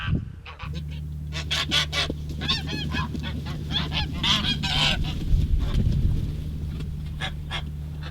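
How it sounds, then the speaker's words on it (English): Geese honk repeatedly in a field near a tavern on Lundy island, a loud, close, overlapping chorus of calls over steady outdoor background noise, with nobody speaking. "There's a good chance you'll see or hear geese in the field close to the tavern."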